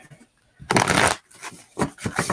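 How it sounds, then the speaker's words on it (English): A tarot deck being shuffled: a quick riffle of cards lasting about half a second, followed by a few shorter, softer flicks and taps as the cards settle, close and clear. "Give it a quick shuffle."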